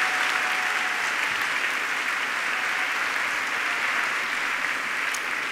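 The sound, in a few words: audience applause for the sponsors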